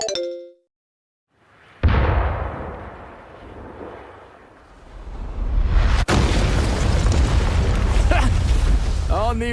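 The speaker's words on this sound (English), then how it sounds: "Though firing the cannons was a bit much." Cannons fire in the Live A Live video game: a sudden loud boom followed by a long rumbling roar, then a second sharp blast that gives way to sustained heavy, crackling rumble.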